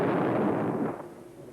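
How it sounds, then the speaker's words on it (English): A landmine goes off beneath a dummy tank during a defence exercise, heard as one heavy, loud blast whose roar fades away over about a second. "Hidden men in camouflage suits stop a dummy tank with a landmine"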